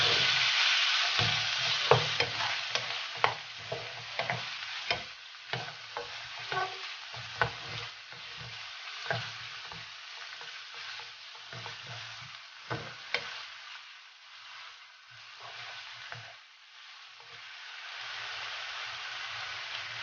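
Pork fries and is stirred in a pan for chopsuey, a steady close sizzle broken by frequent scraping and clattering stirs that ease off toward the end.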